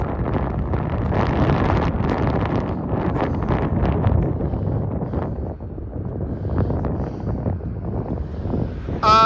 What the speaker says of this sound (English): I didn't think it was just going to be this windy today.